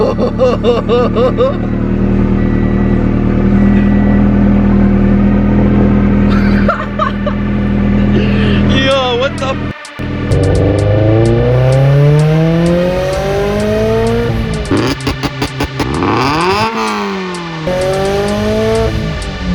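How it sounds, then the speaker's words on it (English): A turbocharged Subaru BRZ fitted with a Tomei exhaust fires up loud and close, settling into a deep rumbling idle before sharp revs that climb and fall, with people reacting and laughing over it. "about to turn on the car for the first time"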